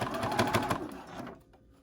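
A sewing machine stitches fabric for a zip pouch in a fast, close, whirring run of needle strokes that slows and stops near the end.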